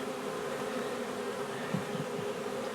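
Honey bees at a beehive hum in a steady, close buzz, many wings droning together with a few individual bees passing nearer; no voices are heard.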